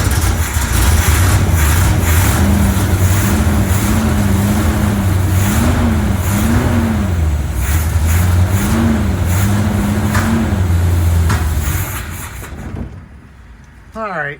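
A 1972 Corvette with a 454 engine runs loud and steady with a deep, rhythmic rumble and repeated revving swells. The sound drops away near the end and the engine goes quiet.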